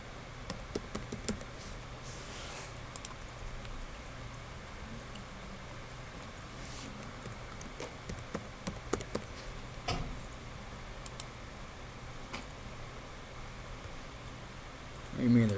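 Keys on a computer keyboard clatter in scattered, fairly faint bursts of light taps over a steady background hum, with a voice talking at points.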